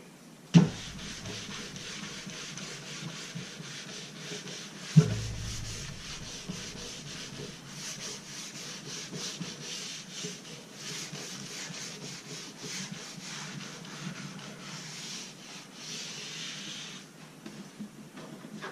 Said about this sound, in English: I have one final buff that I like to do with an old brush, shoe brush, boot brush, just to polish it